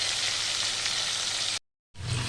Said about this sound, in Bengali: মাছ ভাজাটা দেখো চাপিয়ে দিয়েছি